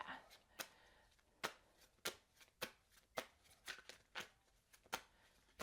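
A deck of fortune-telling cards shuffled by hand at close range: about a dozen sharp, crisp riffling bursts in an uneven rhythm, separated by near-silent pauses.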